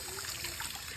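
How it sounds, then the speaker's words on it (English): Water sprays from a hose onto a flat-faced Persian cat being washed, a brief close hiss of running water with faint trickling. "Spray him to get hot."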